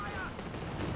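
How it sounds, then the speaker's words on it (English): Katyusha rocket artillery barrage in the WWII strategy game Company of Heroes 2, a brief, dense rumbling roar of launches and impacts, heard under a commentator's voice. "Katyusha lighting up the Panzerfusiliers and the Volk."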